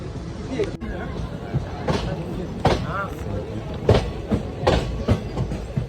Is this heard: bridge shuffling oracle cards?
no